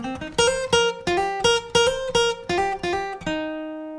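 An electric guitar or acoustic guitar plays a repeated solo phrase from a song, clear plucked notes in a steady rhythmic sequence ending on a sustained final note, with no voice over it.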